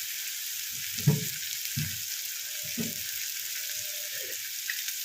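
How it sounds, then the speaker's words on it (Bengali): Onions with a little salt fry for a black chickpea curry, making a steady, bright hiss of sizzling oil with a few soft low knocks from stirring, close and without speech. "পেঁয়াজ ভাজাতে একটু নুন দিয়ে দিলে তাড়াতাড়ি গলে যায়"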